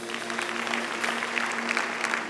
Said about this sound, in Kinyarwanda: Umwami akwiye amashyi menshi.